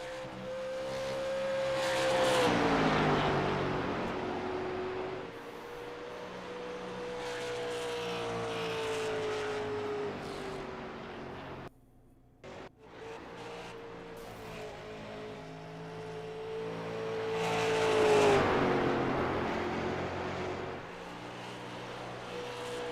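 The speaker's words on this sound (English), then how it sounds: "Drew Collins going for his first lap here in qualifying." A dirt-track race car runs a qualifying lap, its engine rising and falling in pitch as it sweeps past, dropping away briefly near the middle, then returning loud and close before fading.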